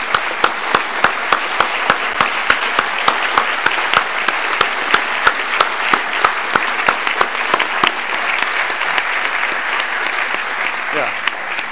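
An audience at a lecture celebrating twenty years of exoplanet discovery claps steadily, with a few sharp, distinct claps standing out near the front.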